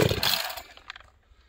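A chainsaw pull-start attempt in sub-zero cold, a short loud burst of engine noise that cuts out after under half a second, followed by faint clatter.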